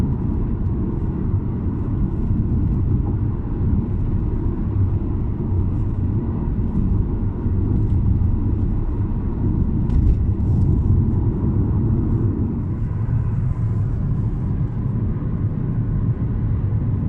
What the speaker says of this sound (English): So now it's time to take her around the block.